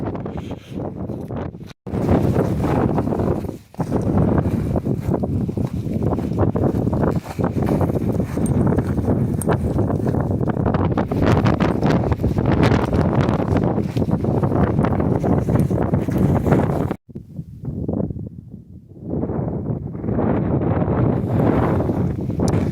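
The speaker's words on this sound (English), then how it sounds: "it's just a little too windy up here" Strong, gusty wind blasts continuously against the microphone on an alpine mountain summit in winter, roaring loudly with a few brief lulls before surging again.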